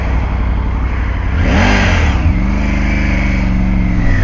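Motorcycle engine revving while riding, with a wind deflector at the front; a steady, close engine drone rises in pitch partway through and then holds, with wind noise throughout.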